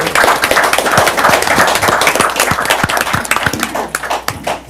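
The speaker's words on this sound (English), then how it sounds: "I think she deserves a round of applause for doing such a good job for us." A small audience at a city council meeting claps, with individual hand claps distinct and close, steady for several seconds before tapering off.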